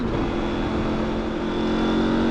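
A motorbike riding along California's Highway 1 toward San Francisco, its engine droning steadily and loud up close with a constant tone and no clear rev breaks or shift cuts.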